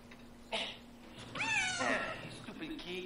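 Cat in the video game Phantasmagoria, giving one short meow and then a longer, louder, drawn-out yowl close up, heard over low background game sound.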